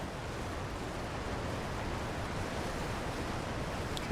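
A waterfall in the video game Elden Ring gives a steady, dense rushing roar that stays constant at moderate level throughout, with no voices.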